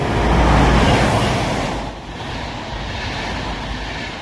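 Inside a commuter train during a ride, a loud, steady rumble and roar of the carriage on the rails fills the space, swelling then easing slightly, with no voices.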